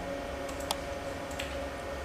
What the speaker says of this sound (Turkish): Klavyeden alt tuşuna bastım.